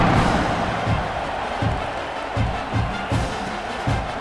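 Stadium crowd noise from EA Sports College Football 26 during a kickoff after a long scoring drive, a steady roar of cheering with low thumping accents, continuous throughout with no clear talk.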